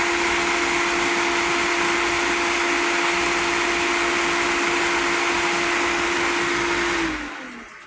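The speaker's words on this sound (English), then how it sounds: "The high speed primes the filter housing, and then it'll click into normal speed" A Pentair pool pump runs at high speed to prime the filter housing, giving a loud, steady motor whine with a constant tone. It holds for about seven seconds, then the pitch drops and the sound winds down.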